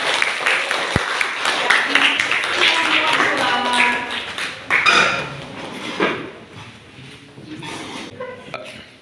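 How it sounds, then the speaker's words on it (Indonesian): Classroom applause for a presenting student group: scattered, uneven clapping from a small group of students, with some taps and knocks, fading out as voices take over toward the end. "Beri tepuk tangan kepada kelompok 2."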